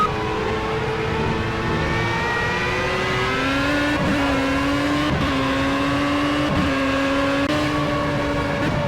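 A Formula A race car engine in Project CARS at Brands Hatch drones loudly and steadily throughout, its pitch rising through the gears with brief dips at the shifts, heard alone with no talk.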